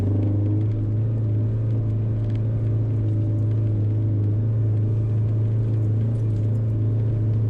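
A Subaru XV idles and crawls off-road in first gear with traction control off, giving a steady, close, low engine drone that stays constant throughout with no talking.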